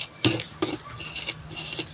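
Sugar stirred into Lao salad ingredients with a metal spoon in a bowl, making several distinct clinks and scraping strokes at an irregular rhythm, close and fairly loud.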